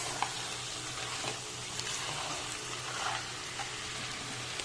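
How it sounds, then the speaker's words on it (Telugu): Crab being stirred into masala in a hot pan sizzles and fries steadily, with soft scraping stirs and small clinks breaking through the constant crackle. "ఇలా మంచిగా మసాలా అంతా క్రాబ్ కి పట్టేటట్టుగా బాగా కలిపేసుకొని"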